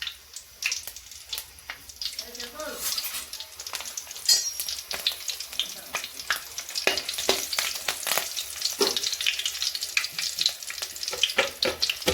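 Two small green chillies fry in hot oil for a bachelor-style fish curry, crackling and spitting in dense, uneven pops over a continuous sizzle, close and fairly loud.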